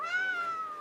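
A single drawn-out cat meow, clear and fairly close, rising slightly and then falling in pitch over under a second with no other sounds.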